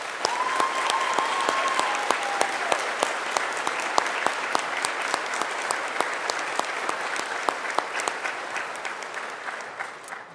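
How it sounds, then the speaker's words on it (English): Sustained applause from a large audience fills a nursing graduation pinning ceremony, dense and even for about ten seconds before gradually thinning out, with a brief whistle early on. "Please join me in a round of applause to thank all the men and women who have served our country."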